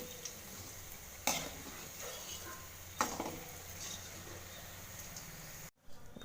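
Onion bajji with coriander seeds frying in oil, a steady soft sizzle with a few sharp clinks of a utensil against the pan, fairly quiet and close, no talking.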